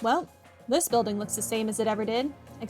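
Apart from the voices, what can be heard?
No distinct noise like a dog, phone or traffic.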